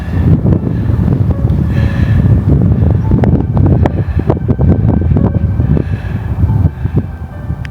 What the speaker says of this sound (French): J'espère qu'on n'entendra pas trop le vent